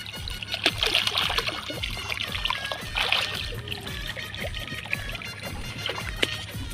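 Water flowing along a channel in a village farm field, a close, continuous trickling and gurgling with small splashes and a faint low hum beneath.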